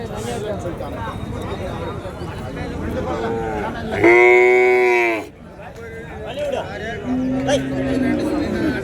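Calves and cattle mooing at a crowded livestock market in Matrapalli, with one loud drawn-out moo standing out mid-clip and lower calls later, over steady crowd chatter and people talking.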